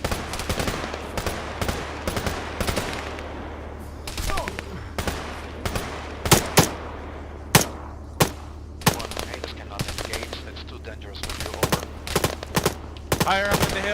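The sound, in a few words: machine gun fire from a hill in a military video game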